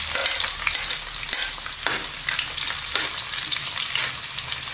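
Garlic and onions fry in a pan with a loud, continuous sizzle, broken by occasional scraping surges as the food is stirred close by.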